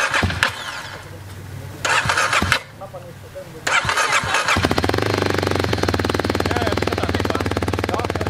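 A trial motorcycle engine starts and runs, coming in bursts before settling into a steady, fairly close idle with a rhythmic mid-pitched throb; voices talk over it in places.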